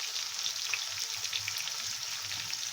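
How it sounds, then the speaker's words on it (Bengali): Eggplant pieces fry in oil in a pan while being stirred, giving a steady, close, dense sizzle with faint scraping movements throughout and no talking. "বেগুনটাকে একটু নাড়িয়ে নিচ্ছি। একটু লাল লাল ভাজা হবে।"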